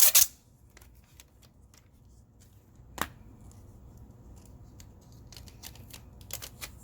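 Scissors snip through clear tape while a DIY wallet's ID card holder is made: one sharp cut at the start and a quieter click a few seconds later, up close in a quiet room with faint rustling between.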